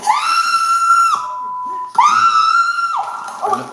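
A woman screams in two long, loud, sustained high-pitched wails, one right after the other, close and piercing.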